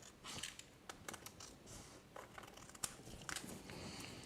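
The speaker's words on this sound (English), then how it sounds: "I'll just use a regular pair of scissors" Irregular crisp snips and crinkly rustling as scissors cut through thin heat-transfer vinyl, quiet and close, with no voices.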